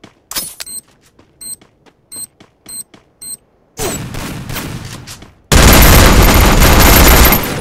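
Gunfire in the Free Fire mobile game: a string of sharp individual shots with beeping tones, then sustained loud automatic fire that builds into a dense, continuous roar.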